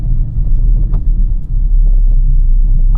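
A car engine holds a loud, steady low rumble under acceleration in third gear during city driving, heard from inside the cabin with little change in pitch.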